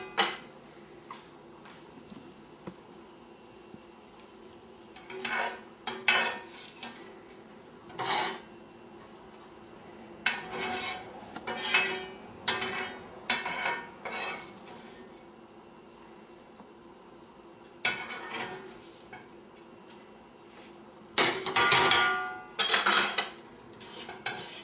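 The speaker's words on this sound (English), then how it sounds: "So I'm finishing dicing my onion, which is the next step here." Knife dicing an onion on a cutting board in a home kitchen, heard as clustered bursts of close, crisp chopping strokes separated by short pauses, ending in a louder flurry of rapid cuts.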